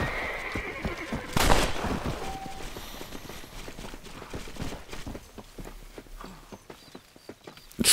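A horse whinnies loudly in the video game Red Dead Redemption, then hooves clip-clop in a steady walking rhythm, ending with another sharp burst.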